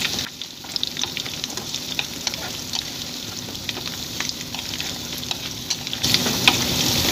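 Chicken breast frying in a pan of hot oil gives a steady, loud, close sizzle and crackle with scattered pops, running continuously and growing slightly denser toward the end, with no talking.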